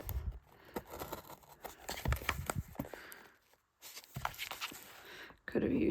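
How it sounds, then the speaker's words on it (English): Scissors snip through the plastic packaging of Furby Furblets toys, with close, quiet cuts, crinkles and scrapes in an uneven rhythm and no talking. "I'll just use my scissors"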